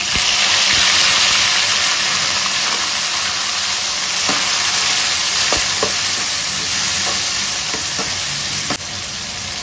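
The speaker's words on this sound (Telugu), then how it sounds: "ఇప్పుడు టమోటో 2 నాటి టమోటో వేసుకుంటాము, టేస్ట్ బాగుంటుంది." Country tomatoes added to frying onions in a pan for drumstick sambar, a loud, dense hissing sizzle right up close, with faint clicks of stirring dotted through it.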